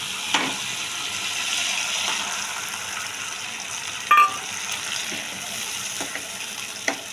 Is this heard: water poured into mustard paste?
yes